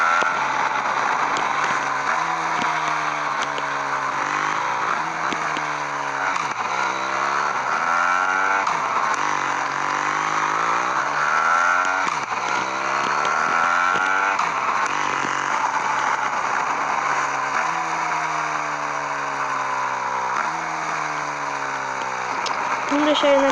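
A car in a video game drives with a constant engine drone whose pitch climbs and drops through repeated gear shifts, loud and unbroken, with a voice briefly heard under it.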